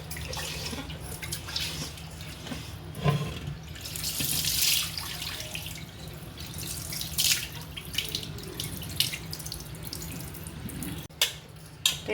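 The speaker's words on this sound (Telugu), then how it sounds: "ఇప్పుడైతే రైస్ని శుభ్రంగా కడుక్కుందామండి." Rice is washed in a sink under running tap water, with a quiet, continuous splash and trickle broken by brief sloshing bursts as the grains are swirled and rinsed.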